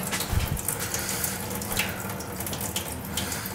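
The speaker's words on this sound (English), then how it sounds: "open up all the faucets in the house, hot and cold, everything." Water runs steadily from open faucets in a house, a continuous close hiss and splash as every hot and cold tap is opened during work on a leaking copper water pipe in the basement.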